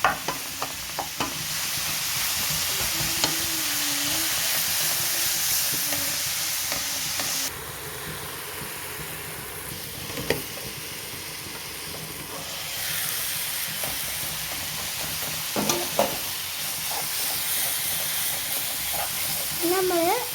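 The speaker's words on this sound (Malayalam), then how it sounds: "സവാളയിലോട്ട് നമ്മൾ തക്കാളി അരിഞ്ഞത് ഇട്ട് കൊടുക്കാം." Chopped tomato sizzles and steams on softened onions in a covered pan while a chicken curry cooks, a steady close hiss with occasional stirring scrapes and lid knocks.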